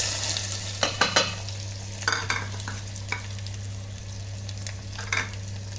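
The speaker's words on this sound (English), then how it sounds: "Now fry till the onion turns light golden color." Finely chopped onions and cumin seeds fry in an electric kettle, a soft continuous sizzle broken by several sharp stirring clinks and scrapes, close by with no talking.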